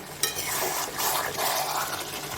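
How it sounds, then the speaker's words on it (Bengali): Mutton and potatoes stir-fried in a pan: loud scraping strokes of a spatula over a steady sizzle, with a few sharp clanks against the pan. "মাংসটা কষবার সময় দুটো আলু দিয়ে কষছি"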